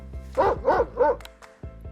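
A dog barks three times in quick succession, close and loud, followed by a softer yip.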